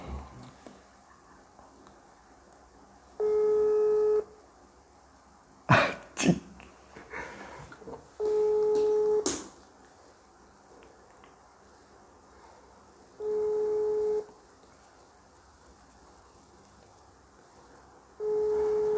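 Ringback tone of an outgoing phone call that goes unanswered: a steady electronic burr sounds about four times, roughly a second each, separated by longer silences, with some brief rustling and handling noise partway through.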